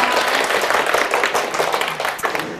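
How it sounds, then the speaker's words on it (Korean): An audience claps in a lecture room, a dense patter of many hands that swells and eases over a couple of seconds, fairly close and loud. "아무리 박수를 치셔도"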